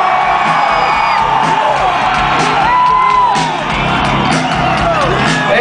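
Loud rock-concert crowd at a show at Rockstar Mayhem festival, a dense sustained roar of cheering with whoops, yells and shouted voices layered over one another throughout.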